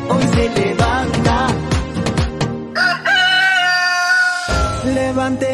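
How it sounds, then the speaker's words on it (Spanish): A rooster crows loudly with a long, drawn-out call, heard within a song over busy musical accompaniment and clucking-like tones nearby. "Escucha, el gallo canta."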